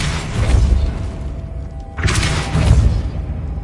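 Depulso spell cast in Hogwarts Legacy, a loud booming magical burst that cuts in sharply and rumbles heavily for over a second, following an earlier deep rumble, all loud and close.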